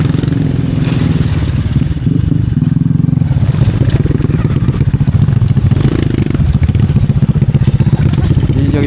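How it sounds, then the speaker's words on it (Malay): Three off-road motorcycles arriving on a rough jungle track, engines throbbing and revving loudly up close with rattling clatter and scraping over uneven ground. "akhirnya sampai 3 buah motor"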